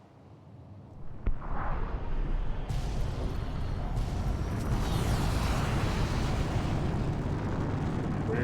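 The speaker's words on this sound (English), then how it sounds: "Launch the nuke from another missile silo." A nuclear missile launches from a silo in Fallout: New Vegas, starting with a sharp crack and then swelling into a loud, sustained roaring rumble that holds steady for several seconds.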